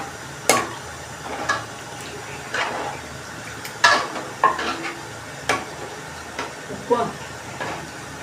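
Tamarind curry with dumplings bubbles quietly in a pot while a spoon scrapes and clinks against the sides in occasional strokes, soft and close.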